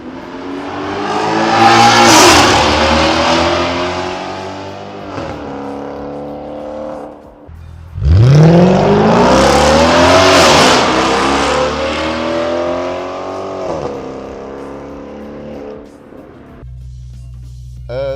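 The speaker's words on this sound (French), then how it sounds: "Il a une sonorité qui est vraiment parfaite, ce V8." An Audi S5's V8 engine roars and revs hard through rising gears during a launch from standstill, loud and close, easing off before a second strong surge of acceleration.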